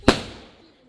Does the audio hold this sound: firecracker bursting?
yes